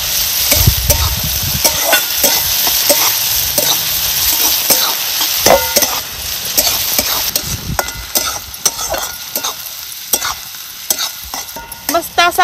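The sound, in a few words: onions frying in oil for drumstick leaf sabzi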